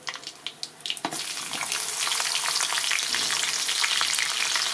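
Cut green chillies dropped into hot oil with mustard seeds, a few sharp pops and crackles first, then a loud, dense sizzle that keeps going steadily.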